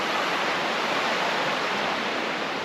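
A river flows in steady, dense rushing, loud and close, an unbroken wash of water noise with no voices.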